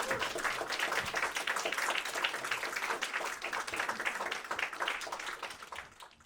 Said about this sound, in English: So round of applause for the panel again